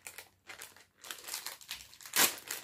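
Plastic packaging crinkles and tears open around a small flower-shaped pumice stone brush, with a run of close, quiet rustles that builds to one louder crunch near the end.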